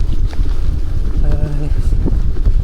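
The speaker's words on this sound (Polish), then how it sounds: "Dosyć mocny wiatr jest dzisiaj." Heavy winter wind buffeting a microphone while riding a gravel bike, a constant low rumble and roar filling the whole clip, with faint voice-like tones briefly poking through.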